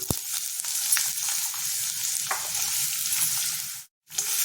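Radish pieces frying in a pan for a dry radish curry, a steady close sizzle with light stirring clicks throughout, cut off briefly near the end; no talking.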